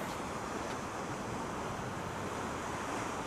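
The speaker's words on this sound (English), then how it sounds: "Nice sound of the waves crashing here." Ocean waves wash continuously at Sunset Cliffs, a soft, steady surf roar with wind noise, heard from a parked van.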